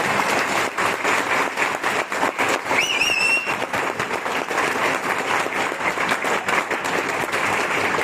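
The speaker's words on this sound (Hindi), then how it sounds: "तालियां।" A family gathering breaks into loud, sustained applause for a hardworking parent, dense clapping throughout with a brief whistle rising over it partway through.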